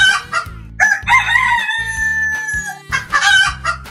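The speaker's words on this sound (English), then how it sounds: "What is the name of this bird? That's right! It's a chicken!" A chicken clucks and crows up close and loud, with short rhythmic clucks around a long drawn-out cock-a-doodle-doo call in the middle and more clucking after it.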